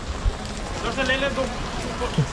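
Rain falls in Haldwani as a steady, fairly loud hiss running through the whole stretch, with a voice talking over it and a couple of brief low thumps.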